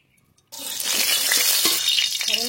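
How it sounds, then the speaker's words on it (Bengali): Mustard oil, some of it saved from frying fish, spits and sizzles loudly in a hot wok (kadai) as curry tempering begins, after a brief quiet start, with a steady crackling hiss and a few sharper pops. "তরকারি সম্বর করে নেব, তার জন্য কড়াইতে সরষের তেল, অল্প তেল দেবো"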